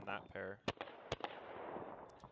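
A few sharp gunshot cracks ring out, irregularly spaced, while shooting on the move, after a brief voice at the start, with a lingering noisy tail.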